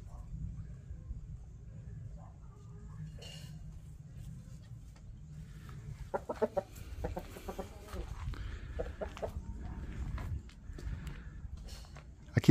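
Rooster and hens, Índio Gigante and GSB Balão breeds, clucking and calling on a small farm, with low rumbling background noise and scattered louder bursts of clucks in the second half.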